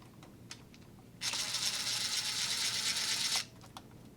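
A screw turns out under a T15 Torx bit driver, a steady whirring buzz lasting about two seconds up close, with a few small clicks before and after in a quiet room.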